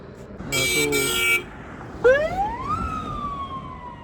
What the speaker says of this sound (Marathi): ॲम्बुलन्स आहे